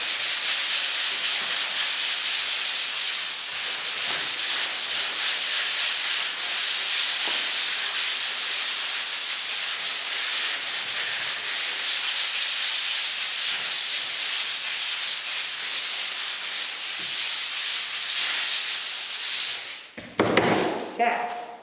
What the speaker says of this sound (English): I'm just going to spot sand a section here.